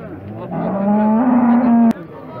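A cow at the Uchkun livestock market gives one loud, close moo that rises and holds for over a second before breaking off abruptly.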